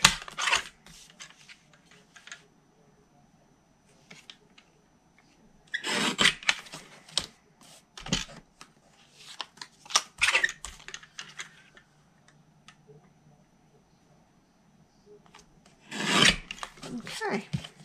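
Paper pieces for a chocolate truffle window box are cut down with a paper trimmer, giving several short, close scraping and rasping strokes separated by quiet pauses and light handling noises.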